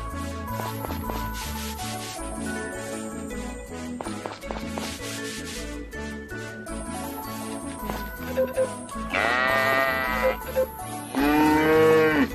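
Cows mooing in a barn in the farming video game Story of Seasons, two loud, drawn-out moos near the end over cheerful background game music.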